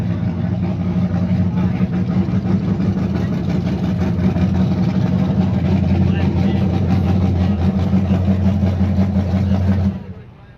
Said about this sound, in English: we'll wait for that car to get up here and shut down so we can hear you talking